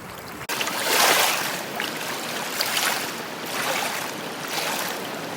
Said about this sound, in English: The river is pretty tonight, just gorgeous.